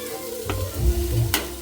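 Chapati pieces with masala and coriander sautéed and stirred in a pan, soft sizzling with scraping stirs and a couple of clinks, close and fairly quiet.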